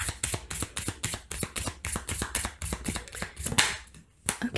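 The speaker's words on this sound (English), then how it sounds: "So let's pick up another card, okay?" Tarot cards being picked up and handled, a quick run of crisp riffling and flicking card sounds with close, rapid taps and a short pause near the end.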